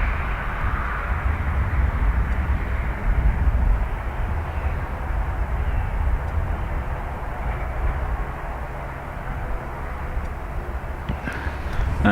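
An airplane passes over the runway at Dublin Airport, a steady low roar and rumble that holds at an even loudness for the whole stretch with no voices.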